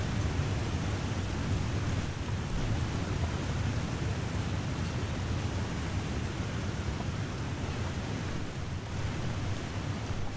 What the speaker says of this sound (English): Try and get past this waterfall noise quickly.